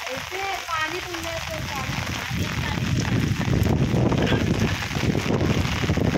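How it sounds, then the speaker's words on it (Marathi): Heavy rain driven by wind in rural Konkan pours down in a dense, steady roar that swells louder partway through. A voice speaks over it at the start. "एवढा पाऊस पडला, होणं काढायला लागली आहे बघा"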